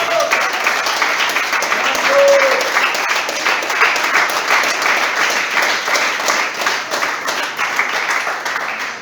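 A church congregation at a Spanish-language worship service claps in sustained, lively applause, with a few voices rising over the rhythmic clapping.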